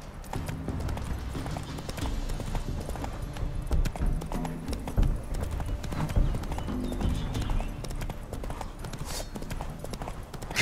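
Roach the horse from The Witcher 3 trots along with a steady run of clip-clopping hoofbeats, each strike distinct and close against the game's busy background ambience.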